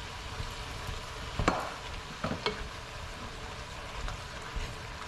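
Stewed tomatoes tipped into a pan of spaghetti meat sauce give a wet, splashing stir with a couple of sharper sloshes over a steady low sizzle, close and moderately loud, with no talking.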